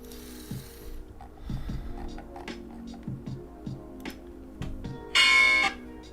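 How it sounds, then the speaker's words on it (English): A stock market opening bell rings on a Monday morning, a brief loud metallic burst near the end following quieter clanks and knocks. "So there's the opening bell on a Monday."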